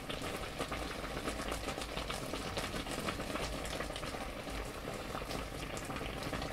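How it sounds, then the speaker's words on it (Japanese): Red shiso leaves boiling in a pot to draw out their juice, a steady, dense bubbling and simmering that runs unbroken and fairly close throughout, with no voices. "エキスを煮出します。"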